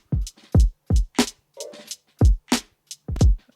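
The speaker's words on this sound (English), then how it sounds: "So this is your drums on their own." A drum loop plays alone with punchy kicks, snappy snares and crisp hi-hats in a steady repeating pattern, close and dry with no other instruments.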